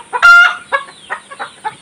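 Fayoumi laying hens cluck close by, with one longer raised squawk followed by a series of short, clipped clucks.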